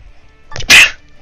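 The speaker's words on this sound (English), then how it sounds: "I felt like I had to sneeze." A single sharp sneeze bursts out close up, a brief breathy intake followed by a loud explosive burst, with no talk around it.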